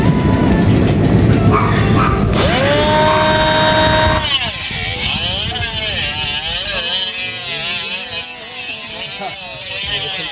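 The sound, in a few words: grinder running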